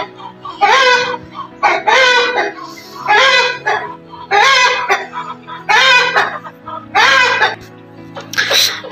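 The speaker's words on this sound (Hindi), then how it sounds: "शुक्र है मुर्गा चुप हुआ" A rooster crows loudly and nearby about six times in a row, evenly spaced, outdoors in a green garden with no talking.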